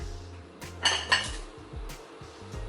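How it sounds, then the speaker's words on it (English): Metal utensils clink against a cooking pot as cinnamon, cloves and peppercorns are added for a Goan red masala, with two sharp close clanks followed by softer scraping and knocks. "then we'll add our cinnamon and our cloves. So peppercorn and"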